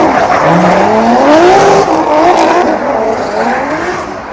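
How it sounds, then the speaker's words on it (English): Loud drifting cars at a Thai car culture event, with sustained rising tire squeals and revving engines sweeping past, dense and continuous, with no voices. "we have drift going on"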